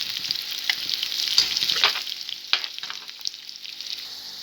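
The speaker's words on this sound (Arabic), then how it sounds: "نقعد نقلب فيها كلها كده بالشكل اللي انت شايفاه" Sweet potatoes fry in butter in a pan, giving off a steady, bright sizzle close by. A utensil turns them, adding repeated scraping and clinking over the frying, with no voices.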